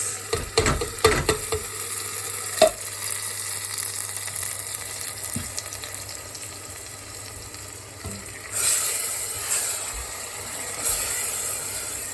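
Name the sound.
tomato and garlic sauce sizzling in a pan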